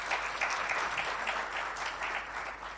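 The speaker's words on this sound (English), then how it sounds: "Let's give him another warm round of applause." Audience applause at the IEC-AFRC 10th anniversary event, a dense, steady clapping from a large crowd that carries on evenly for the whole stretch.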